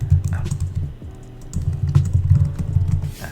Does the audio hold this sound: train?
no